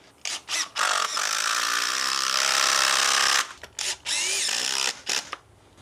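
Power drill trying to drive a Tapcon screw into hard, set concrete: a loud, sustained whining buzz with rising pitch sweeps, broken by short stops and restarts, close to the microphone.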